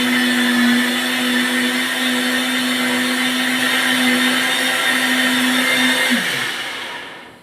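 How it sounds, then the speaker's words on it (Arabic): Cooked lentils and carrot are pureed in a kitchen blender, a loud, steady motor roar with a constant hum that runs unbroken for about six seconds before winding down and stopping. "هروح اضربه في الخلاط برضو"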